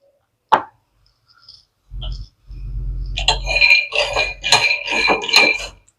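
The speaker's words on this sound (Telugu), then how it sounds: "ఇప్పుడు మనం ఇందులో పల్లీలు వేసుకుందాం పల్లీలు కూడా టూ హండ్రెడ్ గ్రామ్స్ అండి" Two hundred grams of peanuts tipped into a pan for roasting over a medium flame: a sharp knock and low rumble, then a quick run of bright, close rattling clatters.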